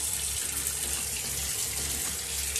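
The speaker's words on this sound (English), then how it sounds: "And I'm gonna put warm water. And I'm gonna fill it up like a couple of inches" Warm water runs steadily from a tap into a dog bathing tub, a constant close splashing hiss with no breaks and no voices.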